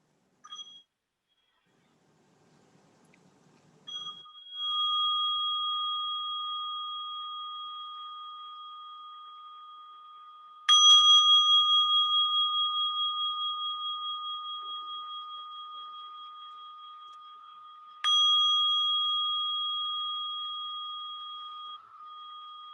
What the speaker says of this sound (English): So I'm going to go ahead and invite a little bell.